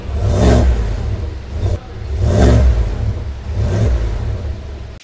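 The exhaust of a Cadillac Escalade with a 6.2-liter supercharged V8 revs three times in succession, each a deep, loud rising roar that swells and falls back to idle, close by with no talking.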